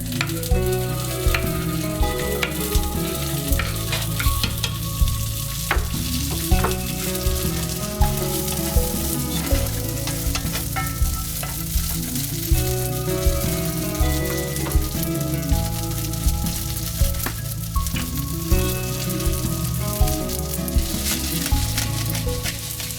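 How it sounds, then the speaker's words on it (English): Tofu cubes fry in a skillet on medium-high heat with a steady, loud sizzle and crackle, with regular stirring scrapes and no talk over it. "Place the tofu cubes back into the skillet on medium-high temperature."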